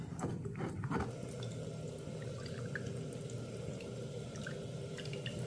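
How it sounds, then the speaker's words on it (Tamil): Milk drips through a cloth-lined strainer, with a few quick splashy drips at the start followed by a continuous soft trickle, close by and with no talking. "அந்த ஜலடையில் ஊற்றிக்கிடுவோம்."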